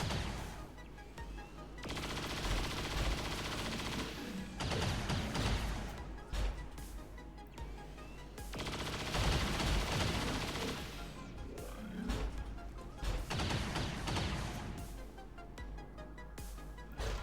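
Sustained bursts of suppressive fire and chain shots in the video game XCOM 2 during a fight against a Sectopod Prime, loud rattling volleys that come in several long waves with brief lulls between them.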